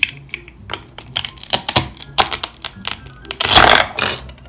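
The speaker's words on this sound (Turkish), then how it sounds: "Onu da şurada kesme tahtamızda hemen keselim." A toy stuffed pepper is cut on a toy cutting board with a series of sharp plastic clicks and taps at an irregular rhythm, ending in a short scraping rasp, close and fairly loud.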